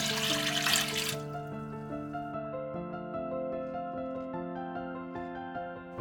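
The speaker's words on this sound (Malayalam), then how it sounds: "വെള്ളം ഒഴിക്കാം." Water poured into a pressure cooker holding lentils for sambar, a brief rushing splash at the start that gives way to sustained melodic background music.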